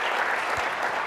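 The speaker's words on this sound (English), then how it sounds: "I just want to get a quick round of applause for these guys," A conference audience applauds speakers on stage, a dense, steady wash of clapping from many hands throughout, with no talk.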